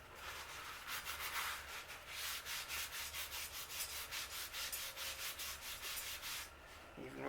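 Welder's chalk rubbed repeatedly across oily metal on a Hardbody pickup, a steady run of close, scratchy strokes in an even rhythm, heard alone without talk.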